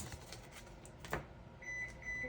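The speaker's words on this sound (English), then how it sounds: "Got beeps, that's my oven" An oven timer beeps with steady, high electronic tones toward the end, following a stretch of quiet room noise.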